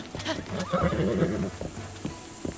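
A horse in Zelda Breath of the Wild neighs loudly and close, a wavering whinny with clip-clopping hooves around it and brief speech nearby.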